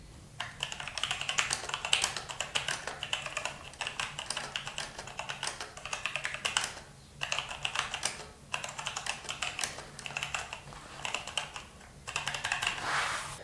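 Rapid clattery typing on a Logitech G413 Carbon mechanical keyboard, loud and close, in bursts with brief pauses between runs of keystrokes.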